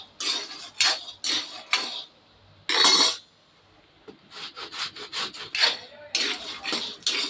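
Sesame seeds being roasted and stirred in a pan, with repeated scraping and rustling bursts of a spoon against metal and brief pauses between strokes, close and fairly loud.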